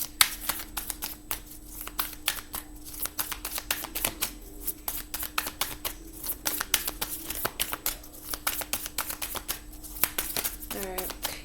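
A deck of cards being shuffled close by, with a steady run of quick crisp riffles and flicks lasting throughout, over a faint background hum.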